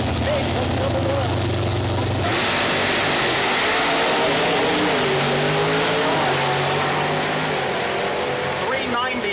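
A Nitrous Pro Mod drag racing Corvette launches down the Mooresville Dragway strip, its engine roaring loud and continuous, pitch climbing and shifting as it pulls away, with an announcer talking over it.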